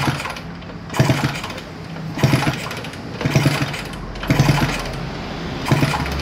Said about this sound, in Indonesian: Kita selah engkol di sini.